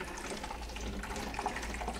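Water pours steadily as a continuous trickling flow, used as lubricant while pulling wire through conduit, close and moderately quiet throughout with no talking.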